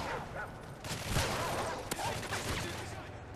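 Gun firing in the video game MW3 Survival, rapid bursts of fairly quiet automatic fire with one sharper shot, while a voice talks over it.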